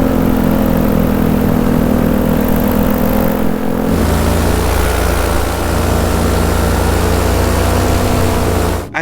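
A paramotor engine at full power, either a two-stroke or a four-stroke unit, roars loudly and steadily up close. The tone deepens and rumbles lower partway through, then cuts off abruptly at the end.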